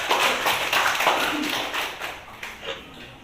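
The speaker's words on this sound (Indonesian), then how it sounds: "tepuk tangan untuk diri kita" Classroom audience of students clapping their hands together, a lively burst of many claps that gradually thins and fades over a few seconds, fairly near and moderately loud.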